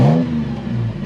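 A 2022 Toyota 4Runner TRD Pro with a TRD exhaust revs in a brief, loud, close burst of deep engine roar that dips slightly and rises again.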